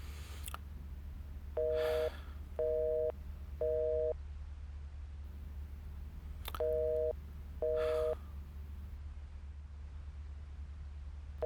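A telephone network tone signals that there is no reception: short electronic beeps, three in a row and then a pause and two more, over a steady low hum. Nobody speaks.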